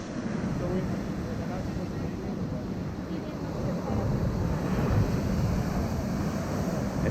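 Pacific Ocean surf washing up on a beach, a steady broadband wash of waves with wind buffeting the microphone, continuous and fairly loud with a slight swell near the end.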